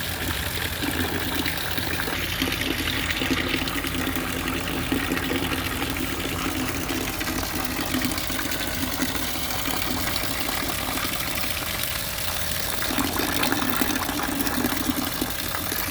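A 12V DC water pump in an off-grid cabin pushes water through a hose, making a steady, loud rushing flow with a constant motor hum throughout, no talking.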